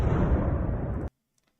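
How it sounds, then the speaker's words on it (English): A roaring F-313 jet engine start-up sound effect, loud and rumbling for about a second, then cutting off abruptly into near silence. "that's the sound of the engine start up."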